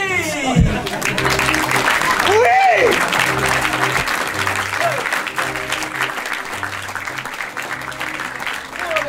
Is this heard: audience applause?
yes